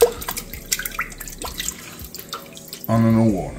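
Whiting being rinsed under a running kitchen tap after cleaning, with scattered splashes and drips at first, then a steady, loud gush of faucet water filling the last second.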